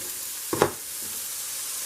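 Peppers and other vegetables sauté in a pan, a soft steady frying hiss with one brief louder scrape or rustle near the start.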